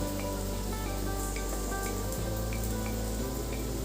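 Beans and potatoes frying in a pan on low heat give a steady, close sizzle with faint crackles, no voices.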